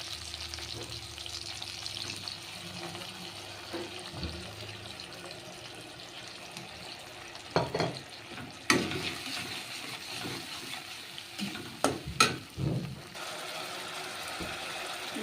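Mustard paste made with mustard powder, green chilies, salt and turmeric fries in oil with a quiet, steady sizzle. Louder bursts of stirring and scraping come near the middle and again toward the end.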